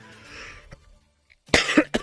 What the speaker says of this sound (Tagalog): Grabe yung ubo ko guys.